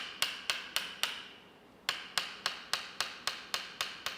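A wooden mallet strikes a wooden peg in steady, evenly spaced Toksen massage taps on a person's back, four quick knocks, a short pause, then nine more in a regular rhythm, close and crisp.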